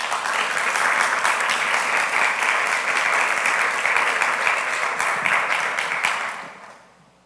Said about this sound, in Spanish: a quien le pido un fuerte aplauso, por favor